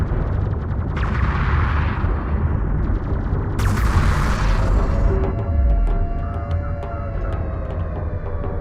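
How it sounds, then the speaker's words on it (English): An enemy railgun fires in Homeworld: Deserts of Kharak, heavy booming shots with sharp crackling bursts in a sustained battle barrage, loud and close over a rumbling low bed of vehicle noise. "Enemy railgun firing on friendlies."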